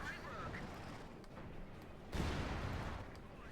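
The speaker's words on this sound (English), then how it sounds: "Artillery fire." Distant artillery fire in the WWII strategy game Company of Heroes 2, a low rumbling boom with a heavier blast hitting partway through. A commentator talks over it.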